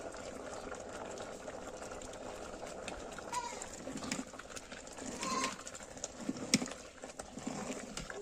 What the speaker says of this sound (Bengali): খিচুড়িটা ফুটে এসেছে